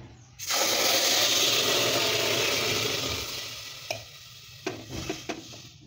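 Water poured into roasted lentils in a pressure cooker for sambar sets off a loud, steady sizzle and hiss that fades gradually, followed by a few short stirring clatters near the end.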